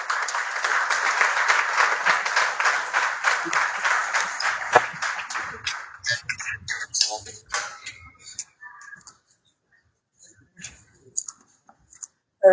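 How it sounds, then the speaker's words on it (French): An audience at a Malian women's digital forum closing ceremony applauds a speaker, dense clapping for several seconds that thins to scattered claps and then falls silent. "Veuillez l'acclamer ici."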